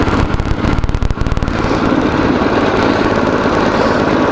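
A small generator engine fitted with a propane carburetor runs loud and close, starting with a rapid choppy firing rhythm that settles into a steady, rough drone.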